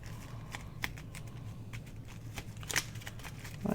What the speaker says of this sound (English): I'm going to trim a little bit of this one off as well